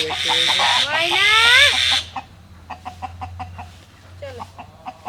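A very large village rooster calls loudly and harshly for about two seconds, then settles into a run of short, evenly spaced clucks that carry on more quietly above faint outdoor background sound.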